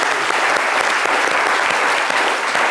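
A studio audience on a French midday television talk show bursts into sustained, dense applause, a steady wash of clapping hands with no pauses and no voices.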